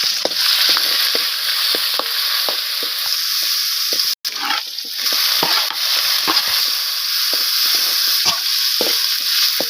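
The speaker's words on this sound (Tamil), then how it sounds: "கறிவேப்பிலை, வெங்காயம் கொஞ்சம் வதக்கிடலாம்." Curry leaves and onion sautéing in a hot pan, a continuous bright sizzle broken by repeated scraping stir strokes and a momentary dropout, with no talking.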